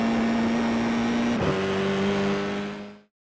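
A Formula iR-04 (F4) open-wheel racer at Okayama in iRacing drones with a steady high engine note, shifts sharply partway through and carries on at a slightly altered pitch before cutting off abruptly.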